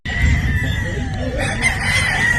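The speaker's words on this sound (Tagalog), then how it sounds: "Pure Boston Roundhead po mga bossing" A pure Boston Roundhead gamefowl rooster at a Batangas game farm crows steadily and loudly for the whole stretch, close by, with a persistent outdoor hiss and no talk over it.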